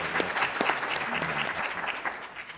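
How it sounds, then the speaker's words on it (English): Steady applause for a panel from a conference audience: many hands clapping together, dense and even throughout, fairly close. "Please join me in giving this panel a round of applause."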